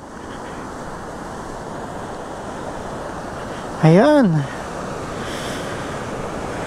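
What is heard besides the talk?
strong rushing water flowing past rock formations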